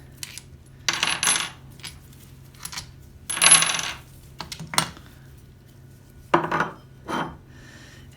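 Six bolts come off a motorbike engine one after another, giving scattered metallic clinks and small clattering knocks of loose parts being set down, close by with no talking.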